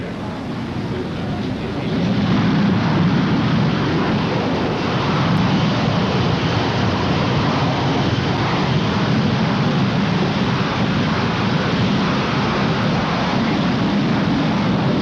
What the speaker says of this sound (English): Let's look and listen for a moment as one of the planes took off north to Iraq.